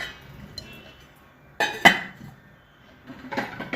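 A set of three kitchen bowls is handled, giving a couple of sharp metallic clinks close by in the middle, then a few softer knocks near the end, with quiet gaps between.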